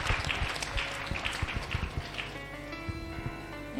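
A church congregation applauding during worship, with dense, uneven clapping that stays moderately loud and distant before thinning out as a steady tone rises.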